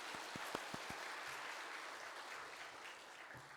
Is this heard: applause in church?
yes